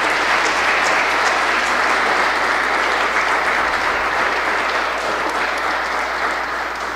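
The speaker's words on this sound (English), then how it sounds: "Another round of applause for our newly married couple." Congregation at Sunday Mass applauding a newly married couple, a dense, loud and sustained wash of many hands clapping that holds steady for the whole stretch and eases slightly at the end.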